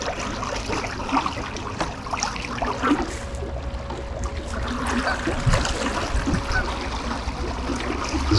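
A Newport Vessels electric boat motor powered by a marine battery runs on the water, a faint steady whine set against constant splashing, trickling and lapping water throughout.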